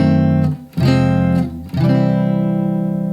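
Loud, sustained blues and jazz guitar chords played one after another, three strummed changes each left ringing, the last chord held out.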